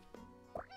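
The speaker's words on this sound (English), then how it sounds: "Oh, kitty cat." A cat meows twice in the video game Battle Chef Brigade, two short close calls with the second rising higher and brighter, and a faint tonal backdrop behind them.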